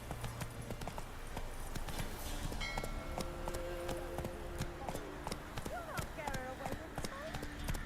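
A horse gallops in The Witcher 3 video game, rapid rhythmic hoofbeats pounding continuously and fairly close, with a whinny and game music and other sounds mixed in, under talking voices.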